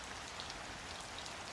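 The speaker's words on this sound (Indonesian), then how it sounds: "Hujan rintik-rintik mulai turun saat malam menjelang." Light night rain falls in a steady, soft, even patter and hiss, with no voices and no other sounds.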